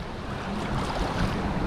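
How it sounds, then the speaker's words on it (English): Wind and choppy water around a small boat heading out toward bridge fishing in the Outer Banks, North Carolina, with swells growing; a steady, loud rush of wind noise and wave wash, no talk. "Swells are getting taller, wind's picking up"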